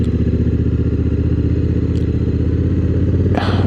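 A 2024 Honda Africa Twin with DCT automatic transmission rides at night, its engine a steady loud drone throughout, with a brief rush of wind or mechanical noise near the end and no talking.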